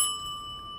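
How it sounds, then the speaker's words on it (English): Doorbell in Hitman (2016), Sapienza: a single bright ding with a clear ringing tone that decays over under a second, moderately loud and alone. "I can ring the doorbell."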